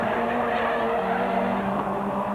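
Touring race cars circuit at Thruxton in the 1989 British Touring Car Championship as a car spins with worn tyres, engines roaring steadily and tyre scrub blending into a continuous loud, close wash of noise.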